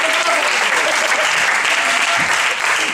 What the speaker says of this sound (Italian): un applauso ci vuole